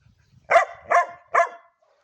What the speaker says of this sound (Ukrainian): А чого ти гавкаєш, скажи, пожалуйста?